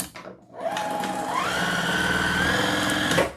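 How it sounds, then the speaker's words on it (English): A sewing machine stitching a Halloween mummy wreath decoration runs steadily and close, its motor whine rising in pitch as it speeds up, then stopping after a few seconds. "I like to sew them on."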